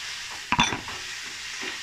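Mushrooms are stirred into hot ghee in a pan, a spoon scraping once against the metal amid a soft, steady sizzle, close and without talk.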